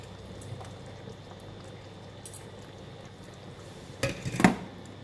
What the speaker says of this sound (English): Look at that, soup is boiling